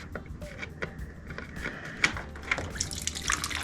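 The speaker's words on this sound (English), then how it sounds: "As soon as we get this line out, we'll get the rest of this fluid out." Coolant drains from a lower hose on a KTM 1190 motorcycle, a faint, uneven trickle and splash with a few small clinks of parts, quiet and close.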